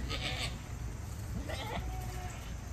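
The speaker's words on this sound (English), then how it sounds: "The goats know this is not the routine, so they all went to the feed troughs to get fed" Goats on a farm bleat in a few short, wavering calls close by, heard in a small cluster with quiet gaps between them over a low rumbling background.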